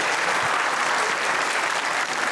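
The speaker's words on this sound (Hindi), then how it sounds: "कामी के लिए तो ढेर सारी तालियां" A studio audience breaks into sustained, dense applause for a cricketer on a comedy talk show, loud and even from start to finish with no talk.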